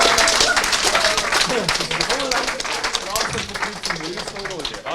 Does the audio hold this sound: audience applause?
yes